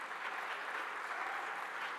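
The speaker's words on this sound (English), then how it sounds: "Let's give a round of applause to our chairman" Sustained applause from a crowd at a business breakfast as the chairman is honoured, a uniform wash of clapping at moderate distance with no break.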